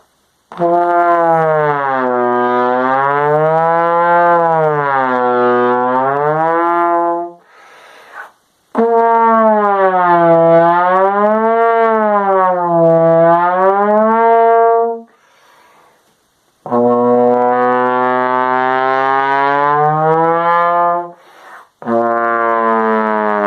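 A trombone plays long sustained notes with a wavering vibrato, three extended phrases separated by brief pauses, loud and close.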